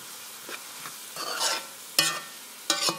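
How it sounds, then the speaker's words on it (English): Spaghetti sauce of tomatoes and tomato paste being stirred in a pot, with soft scraping strokes and a few sharp spoon clinks against the pan edge, close and unaccompanied by talk. "Mix everything up."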